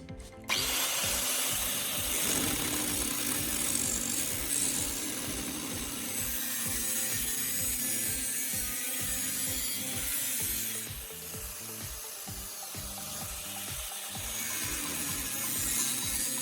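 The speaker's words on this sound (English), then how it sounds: "I attach the cutting disc to the angle grinder and cut this piece of iron." An angle grinder fitted with a cutting disc cuts through a piece of iron, a loud continuous grinding whine that starts abruptly and holds steady with slight pitch shifts, close by.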